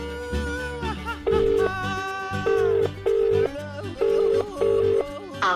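An unanswered phone call: a ringback tone sounds in repeated bursts with pauses between them, close and clear, preceded by a short dialing sequence.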